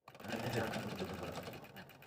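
A sewing machine stitches a quilt background piece onto the bottom of an appliqué block, running steadily for about two seconds at moderate, close range with no pauses.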